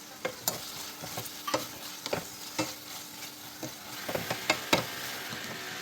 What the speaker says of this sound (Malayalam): ഉള്ളിയും പച്ചമുളകും ഇഞ്ചിയും വെളുത്തുള്ളിയും കരിയാപ്പലയും വഴന്നു വരുമ്പോൾ